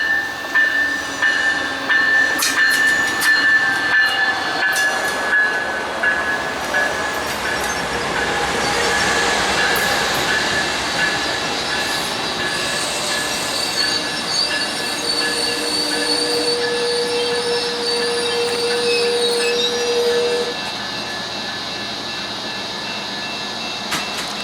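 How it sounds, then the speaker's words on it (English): Amtrak 92 passenger train rolling past a Central Florida station, a steady loud rumble of railcars with high metallic wheel squeal and faint clickety-clack, sustained for about twenty seconds before easing off. "an early Amtrak 92, which is also the last train I saw today"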